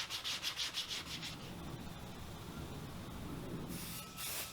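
A sanding block rubs against glazing putty on a concave surface of a 1985 Pontiac Fiero 2M4, first in quick rhythmic back-and-forth strokes, then as a steadier, continuous scratchy hiss, close and fairly quiet.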